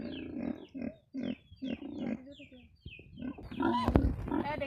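Pigs squeal and grunt noisily at feeding time as grain is brought to them, with a louder burst of squealing near the end, mixed with a voice talking.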